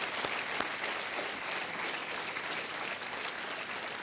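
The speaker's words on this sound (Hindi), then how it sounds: "तालियों के साथ इनका अभिनंदन और बधाई आपको बहुत बहुत" Studio audience applause on the quiz show Kaun Banega Crorepati, a steady, dense wash of clapping that holds at even strength for the whole stretch, with no voices over it.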